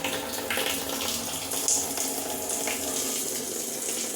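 Rainwater runs steadily through a downpipe rigged as a rain gutter on a garden house, a continuous close splashing rush with no talking over it.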